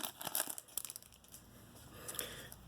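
Foil wrappers on 1996 VIP racing card packs crinkle and tear open up close, with sharp ripping bursts at the start and again near the end and quieter rustling in between.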